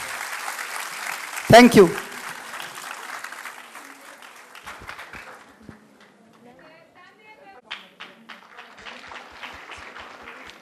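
Audience clapping at a school annual function after a judoka is introduced, loud and dense at first and then thinning out, with a brief voice speaking over the fading crowd.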